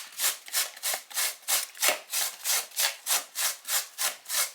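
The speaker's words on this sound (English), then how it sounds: "I've cleaned the ginger, so now I'm going to grate it by just doing this." Fresh cleaned ginger root scraped back and forth across a grater, a steady run of about a dozen rhythmic rasping strokes, close and fairly loud with no talking.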